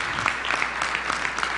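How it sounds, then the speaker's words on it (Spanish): A conference audience at a LACNIC 23 session applauds a presenter in a short, lively burst of close, distinct hand claps. "Un fuerte aplauso."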